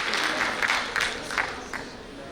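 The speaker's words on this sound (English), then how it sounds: "May we have a big round of applause." Applause from a conference audience at a digital payments event, a dense wash of many hands clapping loudly throughout, with a few louder swells and no talk over it.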